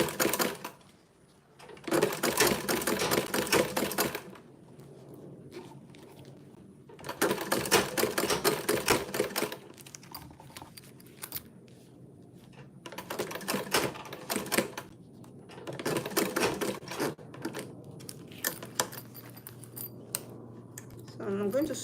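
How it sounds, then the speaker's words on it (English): A sewing machine top-stitches around a bag's zip in bursts of rapid, rattling stitching a few seconds long, separated by quieter pauses with low background sound. "so I'm going to sew around it now to complete it"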